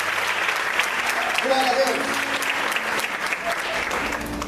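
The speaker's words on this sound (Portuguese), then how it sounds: "Aplauda o Senhor mais forte." A church congregation claps together in a steady, dense round of applause while a preacher's voice speaks over it.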